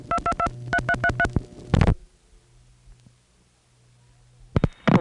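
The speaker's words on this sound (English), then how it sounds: "Let's dial a vacant code." A quick run of six touch-tone dialing beeps keys a vacant code on a 914 area line reached from New York City through senderized step switching, followed by a short burst, a near-silent line with faint hum, then more noise at the end.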